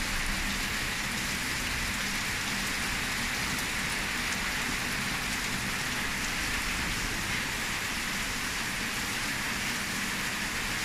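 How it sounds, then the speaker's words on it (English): Rain falling during the rainy season in the Gambia, a steady dense hiss of heavy rain on surfaces, continuous and even throughout, with no talk. "Yes, I think it's raining."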